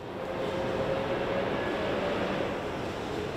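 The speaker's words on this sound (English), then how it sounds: "that is the sound of a Humvee pulling up" Steady, low rumbling Humvee engine noise holding at a constant level as the vehicle pulls up slowly nearby, with no talking.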